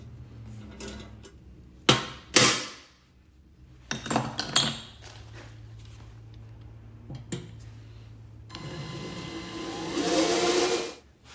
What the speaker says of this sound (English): screw this little hasp directly to the box